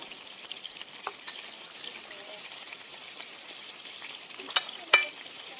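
Scallops with their coral frying in a hot pan, a soft continuous sizzle with occasional sharper pops and spits, close up and fairly quiet, with no voices.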